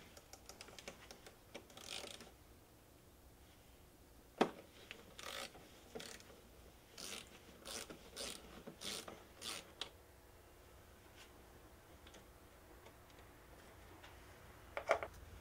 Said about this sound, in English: we're going to remove that 12 millimeter bolt that holds on the power terminal